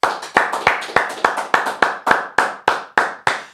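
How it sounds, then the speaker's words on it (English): A few people clap rhythmically in unison for a winning school team that built a portable home dialysis machine prototype, a steady run of about a dozen sharp, close claps with no voices over them. "let's give them a round of applause"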